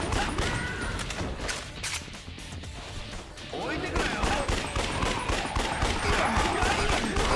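Gunfire in Yakuza: Dead Souls, dense rapid shots and bursts firing continuously, briefly easing before picking up again loud, with a voice talking over the shooting.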